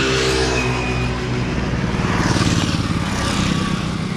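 A motorbike engine runs steadily at the start of a ride, a continuous close, loud mechanical drone with a low, slightly pulsing rumble and no talk over it.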